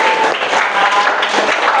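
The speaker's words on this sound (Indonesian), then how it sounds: "Applause, tepuk tangan semuanya." Group of teachers and participants clapping together after a photo at a school coaching session, loud dense applause sustained throughout the short stretch.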